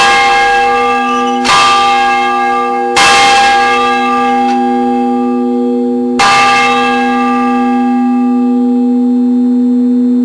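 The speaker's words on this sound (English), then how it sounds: "let Joe ring the bells one more time so that he can work on getting his wings." Historic church bells in Richmond ring loud and close, four strong strikes at uneven intervals, each leaving a long, bright, humming decay that overlaps the next stroke and fades out alone at the end.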